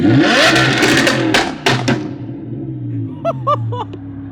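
An Audi R8 with a loud flame-tune exhaust revs hard up close, a roaring engine with sharp bursts and pops that settles into a rumbling idle, with a few short whistling tones near the end.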